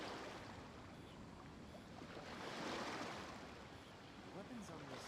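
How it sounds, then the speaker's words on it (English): Calm ocean waves wash steadily in a Genshin Impact game ambience, a soft continuous surf that swells slightly midway, heard alone at low level. "The waves are as calm as always."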